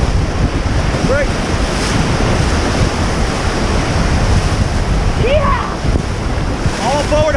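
River rapids on a whitewater rafting run in the Smoky Mountains, Tennessee: a loud, steady roar of churning water and crashing waves with wind buffeting the microphone, faint shouts breaking through.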